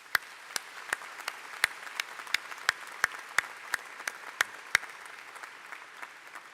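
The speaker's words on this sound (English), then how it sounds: "Please join me in applauding these special guests." Sparse, evenly spaced claps ring out at an engineering school commencement ceremony, a thin rhythmic patter of individual hand claps over a quiet, roomy background.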